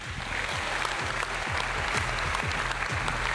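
Applause from an audience at an award ceremony evening, sustained, dense clapping from many hands, fairly distant and even in level throughout.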